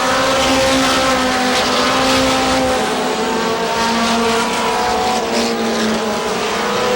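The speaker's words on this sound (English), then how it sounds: "Stevie DeGrozellia a little loose that time in the number 56 car" Race cars roar around the Star Speedway track in New Hampshire, with a dense, loud, continuous engine drone from several cars passing in traffic and no speech.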